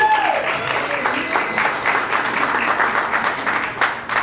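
Audience applause at a community fundraising gala, a dense, lively wash of clapping from many hands with a brief voice trailing off at the start.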